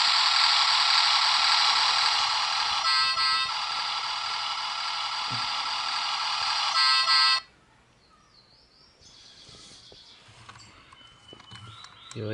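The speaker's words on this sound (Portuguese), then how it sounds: "Ele acende as luzes e faz o barulho do motor e buzina." A loud, continuous electronic engine drone with a bright buzzing tone from a miniature toy truck runs for several seconds, then cuts off, leaving quiet handling noises.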